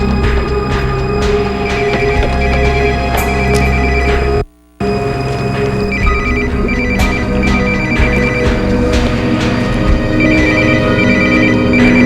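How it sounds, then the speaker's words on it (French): A cell phone rings loudly and repeatedly in a tense scene, its electronic ringtone pattern cycling for several seconds with a brief cut of silence midway and no talking over it. "Ça vient d'un téléphone cellulaire."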